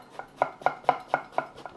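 Kitchen knife scoring the skin side of an eggplant on a cutting board: six or seven crisp, evenly spaced chopping taps at close range, about four per second, with no speech.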